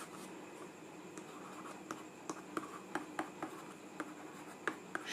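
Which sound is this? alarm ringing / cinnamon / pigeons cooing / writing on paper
writing on paper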